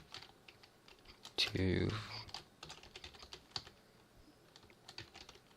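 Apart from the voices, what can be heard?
typing on a computer keyboard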